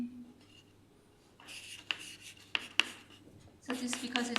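Chalk or marker scratches across a board during a mathematics lecture in short, rubbing strokes that grow denser toward the end, close and fairly quiet, with faint talk in the background.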